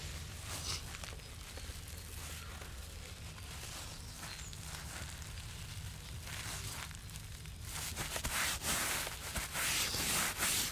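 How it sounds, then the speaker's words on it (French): Synthetic turf fibres rubbed and pressed by hand onto wet glue outdoors, giving a steady close scraping and brushing texture that grows louder and coarser in the last few seconds, with no talking. "là, on frotte un petit peu la fibre, on appuie pour que le tapis adhère à la colle"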